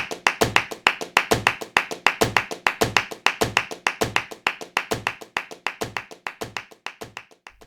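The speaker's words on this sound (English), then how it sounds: "all accompanied with the offbeat clapping sounding louder than the onbeat clapping" Flamenco palmas in compás, with crisp hand claps in a tight, steady pattern where louder offbeat accents alternate with softer onbeat claps, close and dry, continuing evenly throughout.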